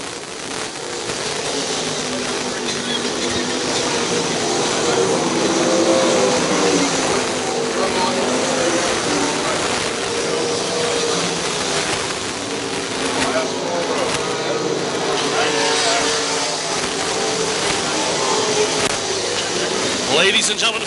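Midget race cars roar around the track at the 38th Belleville Midget Nationals, a continuous distant engine drone under a public-address announcer's commentary.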